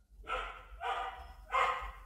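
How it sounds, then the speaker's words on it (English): A dog barks three times in slow, evenly spaced bursts, each bark fairly loud and close, against a quiet indoor background with a low hum. "Freaking dog."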